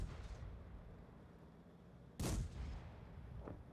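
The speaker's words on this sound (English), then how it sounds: "Keep on nailing them, keep that gun firing." A tank cannon fires once in World of Tanks, one loud boom with a rumbling tail, then a fainter distant shot a moment later.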